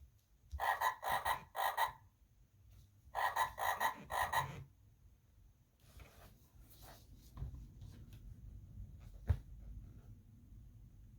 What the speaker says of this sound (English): Find an animal that says ribbit hopping by.